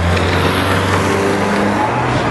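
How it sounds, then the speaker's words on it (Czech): Cars starting to drive off at an outdoor event, a loud, close engine roar with steady revving tones and rising pitch, constant throughout with no voices. "Tak teď se tady začaly rozjíždět auta."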